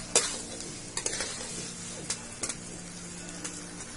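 Fried jackfruit pieces sizzling steadily in a pan of spices, with a spoon scraping and stirring in scattered sharp strokes over the continuous close frying hiss, village-style cooking.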